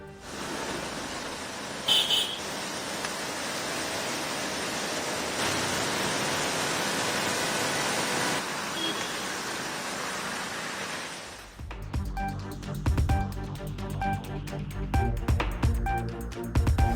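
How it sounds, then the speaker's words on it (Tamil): Heavy overnight rain pouring in Delhi: a dense, steady roar of downpour holds for about eleven seconds, then gives way abruptly to music. "தலைநகர் டெல்லியில் நள்ளிரவு முதல் விடிய விடிய கொட்டி தீர்த்த கனமழை"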